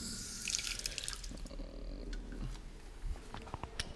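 Tap water runs steadily into a sink to dampen a cleaning cloth meant for wiping down a dirty Harley-Davidson 1200 custom motorcycle, with scattered drips and light clatter close by.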